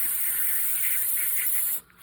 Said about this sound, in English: throttle body cleaner. What we're gonna do is just spray it on a cardboard box